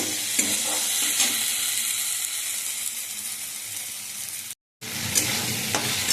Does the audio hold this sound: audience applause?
no